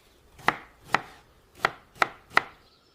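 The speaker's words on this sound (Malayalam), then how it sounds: "ഞാനിത് വേഗം തൊലിയൊക്കെ കളഞ്ഞ് ചെറുതായി അരിഞ്ഞെടുക്കാം" Ripe peeled pineapple being cut into small pieces for pulissery: five crisp knife chops on a board at an uneven pace, close and clear in a quiet room.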